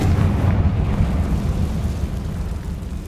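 The Confringo spell detonates in Hogwarts Legacy as a loud, close explosion with a deep rumbling body that slowly decays over a few seconds.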